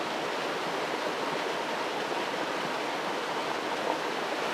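Cascading waterfalls in a Slovenian gorge produce a steady, dense rush of falling water, loud and unbroken throughout.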